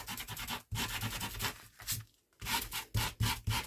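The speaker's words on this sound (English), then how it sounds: "So what I tend to do is come in with just a sanding block and just go over" Sanding block rubbed over paper to strip a top layer of black ink, a series of close, soft scratchy strokes in an uneven back-and-forth rhythm with brief pauses, no talking.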